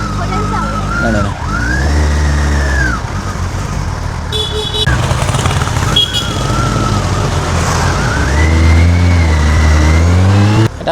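A Kawasaki superbike engine revs hard and close, its pitch sweeping up and falling back repeatedly, loud throughout with brief gaps between throttle blips and a higher whine partway through.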